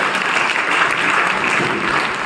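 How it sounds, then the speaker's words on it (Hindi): Loud, sustained applause from an audience at a Diwali Ramlila actors' honouring ceremony, dense clapping that holds steady without a break. "जोरदार ताली, 1 2 3 बजाइए बजाइए"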